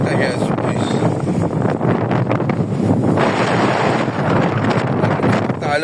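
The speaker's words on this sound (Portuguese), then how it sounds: "É muito vento, pessoal." Strong wind blasts across the microphone on a boat at sea, a loud, constant roar that hardly varies, with water rushing underneath.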